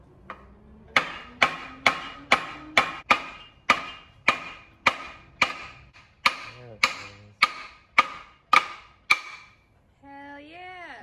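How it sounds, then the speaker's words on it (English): Repeated ringing hammer blows on metal, about fifteen sharp strikes in steady rhythm, each with a resonant metallic decay, struck from a distance, followed by a brief voice. "Think we can hit it with a hammer from here?"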